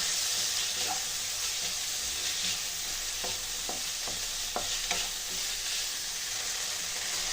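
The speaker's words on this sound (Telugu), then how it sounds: "ఈ సగ్గుబియ్యంని కూడా బాగా కలుపుకొని కొంచెం కుక్ చేసుకుందామండి" Soaked sago is stirred into fried carrot in a pan for payasam. A soft, continuous sizzle runs under a series of spoon scrapes that cluster in the middle, close and moderately quiet.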